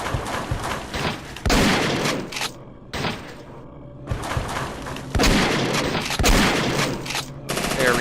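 Shotgun fire in the video game SAS Zombie Assault, with heavy bursts of blasts in several clusters and short quiet gaps between them, loud and punchy.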